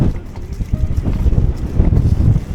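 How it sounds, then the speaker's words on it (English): Strong gusts at Ogden Waters on a wet, muddy day buffet the microphone in loud, low rumbling bursts that rise and fall continuously, with no other sounds standing out. "So the wind is coming from this side."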